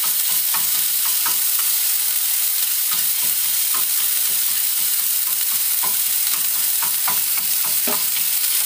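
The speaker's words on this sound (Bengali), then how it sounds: "ওর মধ্যে একটু আদা রসুন বাটা দেবো তেলটার মধ্যে। আদা রসুন বাটাটাকে একটু টস করে নেবো হালকা করে।" Ginger garlic paste fries in hot oil in a pan, a loud, constant sizzle with frequent scraping and tossing clicks of a spatula, no voices.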